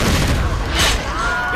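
A grenade bursts in the shooter game Far Cry Instincts, giving a short heavy boom with crackling debris that fades within a second or two, loud and close.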